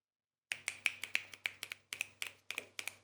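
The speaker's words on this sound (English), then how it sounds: "Oh, that's how we applaud on the Neo Soul Sundays" A series of about a dozen crisp finger snaps used as applause, close and distinct, in an uneven rhythm after a moment of silence.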